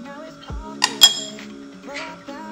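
A spoon stirs coffee and milk in a cup, giving a few sharp, bright clinks against the rim over soft, steady background music.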